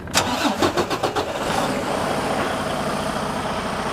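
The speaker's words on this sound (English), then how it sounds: "So let me just start the engine." A Detroit DD15 diesel truck engine with a fuel rail high-pressure leak cranks with several rapid chugs, then catches and settles into a steady, rumbling idle nearby.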